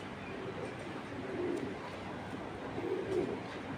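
Soft, low cooing of racing pigeons, two gentle bursts over faint background hum, fairly quiet.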